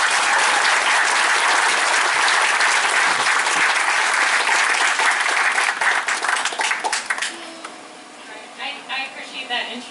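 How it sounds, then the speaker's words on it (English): At a groundbreaking ceremony for Camp Valor, an outdoor crowd gives sustained, loud applause that holds steady for several seconds. It then thins into scattered claps and fades as a voice begins speaking. "Let's give a round of applause for Ms."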